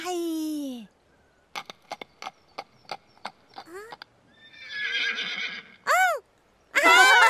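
A voice mimics a horse, with a long whinny, a run of clip-clop clicks, then more loud neighing bursts, close and clear.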